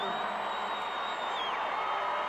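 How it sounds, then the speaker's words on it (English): Basketball fans in the Delta Center arena during a 1994 playoff Game 7 between the Jazz and Nuggets, giving a broad, even wash of applause and crowd noise for the whole stretch, with a faint whistle-like tone above it. "getting a round of applause from the fans here"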